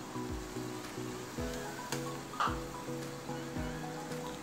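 Rice-flour chakli sizzles quietly in hot oil over a medium gas flame, a faint continuous crackling hiss sitting beneath louder background music.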